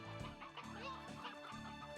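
Chickens cluck and honk in the Slime Rancher video game, faint repeated fowl calls in a pulsing rhythm over a backdrop of game music.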